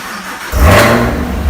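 A 2018 Chevrolet Camaro ZL1, rebuilt after being wrecked, fires up with a push-button start. After a short quiet moment the engine catches with a loud, close rev, then settles into a deep, steady idle.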